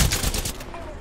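Rapid gunfire in the video game Apex Legends, a loud burst of several quick shots in the first half-second that then tails off into a short fading echo.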